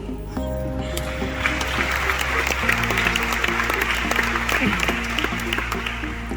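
A conference audience claps steadily, a dense wash of applause starting abruptly and continuing over a low sustained musical tone.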